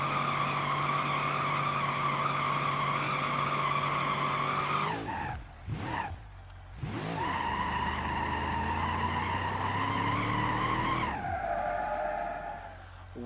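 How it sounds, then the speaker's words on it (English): A car in BeamNG.Drive holds a third-gear burnout, its engine droning loudly with layered tire squeal, then the pitch swoops and dips twice before the roar resumes and falls away at the end. "Third gear burnout?"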